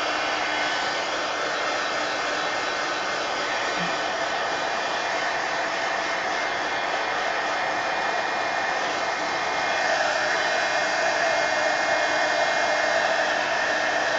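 A heat tool blows hot air across wet paint on an art journal page, a continuous, even hiss-and-whir that holds steady at close range for the whole stretch, with no talk over it.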